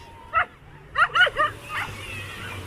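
A dog gives a few short yips and barks on a beach at Weymouth, Dorset, one alone then a quick cluster of three, moderately near against faint outdoor background.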